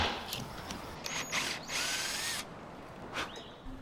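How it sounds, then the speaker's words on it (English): A power drill bores a hole in the wood of an antique watchmaker's bench, whirring in short bursts, revving up and stopping several times, close and fairly quiet with no talking. "I'll simply drill out a hole and insert a wooden dowel"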